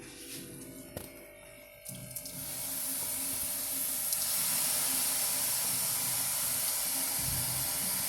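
Ground onion, green chili and ginger hit hot oil and set off a loud sizzle after a few soft clinks. The hissing holds steady and bright for several seconds.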